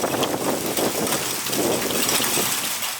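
Heavy rain pounds steadily on surfaces during a thunderstorm, loud and dense throughout, with low rumbling thunder rolling underneath and no voices.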